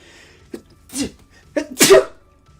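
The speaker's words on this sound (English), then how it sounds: "Help! I'm under attack by the sneezes." Two sneezes close to the mic, each with a quick sharp intake first, the second one louder and fuller.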